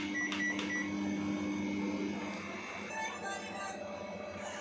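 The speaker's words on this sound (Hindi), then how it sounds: "देन माइक्रोवेव के अंदर रख के इसको मैं 12 मिनट के लिए बेक कर लूँगा।" A microwave oven hums steadily while baking a vegetable and cheese pizza, with a couple of short electronic beeps near the start and the drone continuing, slightly quieter, toward the end.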